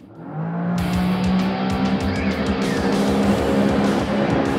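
A 2024 Sea-Doo RXP-X 325 jet ski launches under launch control, its engine surging from idle into a loud, rising roar that holds strong and near as it accelerates.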